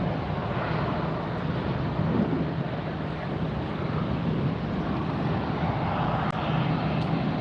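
A Lufthansa Boeing 747 airliner taxiing at LAX airport gives off a steady, broad jet-engine rumble with wind buffeting the microphone, holding at an even level throughout with no talk.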